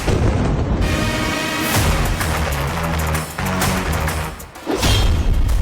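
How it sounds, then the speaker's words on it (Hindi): Heavy booms and rumbling blasts from missile strikes in Israel, loud and close, with a dense roaring wash of noise and a few sharper cracks rolling over one another. "इजराइल पर एक साथ 100 मिसाइल से वार"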